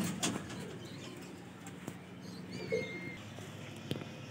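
Baby highflyer pigeons in Lahore give soft, faint coos and chirps over low background murmur, with a few faint squeaks and clicks nearby.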